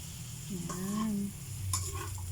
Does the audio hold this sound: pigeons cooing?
no